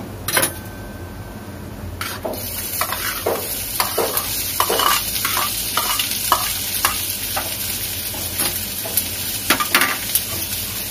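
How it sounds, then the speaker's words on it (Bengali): Onions frying in a pan on top of dry chilli tempering, a steady sizzle broken by repeated sharp scrapes and clinks of a spatula stirring against the pan. "এবার আমি পেঁয়াজগুলো ভেজে নেব।"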